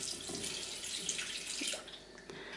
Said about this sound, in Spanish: Es que la ha echado muy rápido el agua